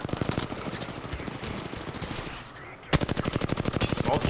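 Rapid automatic gunfire in Apex Legends, close and loud bursts of evenly spaced shots, a brief lull, then another sustained volley.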